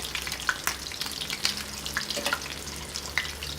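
Chicken toast sizzles in hot oil with a steady crackling fry and scattered sharper pops, moderately close and even, with no talking.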